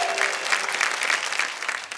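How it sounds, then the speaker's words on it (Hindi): Hearty applause at a Hindi-Urdu poetry recital fills the brief clip, a close, dense patter of clapping that pulses slightly, with no voices over it. "अब आइए जरा जोरदार तालियां बजाइए"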